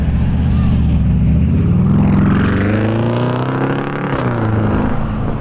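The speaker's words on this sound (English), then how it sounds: "Sounds like it's supercharged, that Jeep there." A supercharged Jeep drives past at a busy road junction on a seaside promenade, its engine note rising and falling over about five seconds beneath steady traffic noise, with faint speech in the background.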